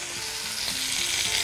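Onion and garlic hit a hot pan in a steady, dense close sizzle that fills the whole moment without pause.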